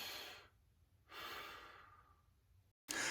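Slow, deliberate diaphragmatic breathing: a long airy inhale or exhale, a pause, then a second drawn-out breath, heard close and alone with no talking.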